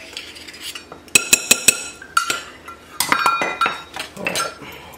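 Metal utensil clinking and scraping against a bowl while mixing corned beef sandwich spread, with a quick run of sharp taps followed by steadier stirring and scraping, close and moderately loud, no talk.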